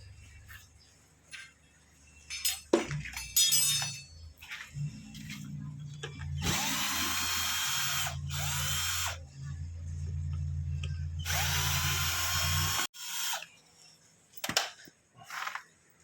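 A power tool spins out bolts from a leaking washing machine, several loud whirring bursts of a few seconds each, with clattering and handling noises between them, close up.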